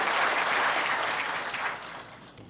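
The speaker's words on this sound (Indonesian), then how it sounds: "boleh tepuk tangannya." An audience at a Batak youth declaration event in East Java claps together, a dense burst of applause that is loudest at first and slowly fades over a couple of seconds.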